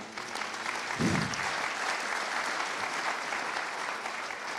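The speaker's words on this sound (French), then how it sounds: "On a entendu quelques applaudissements" Sparse audience applause at a closing ceremony for young changemakers, a modest steady patter of clapping throughout, with a brief low voice near the start.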